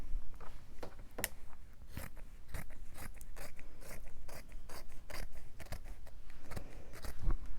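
Scissors snipping paper for a handmade journal cover, a string of crisp, close cuts in an uneven rhythm with small pauses between strokes, heard alone without talk.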